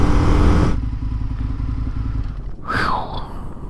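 2019 Indian FTR 1200 S motorcycle on a track day, a loud close engine roar that cuts off abruptly, then a lower rumble and a brief rising whine, with no talk.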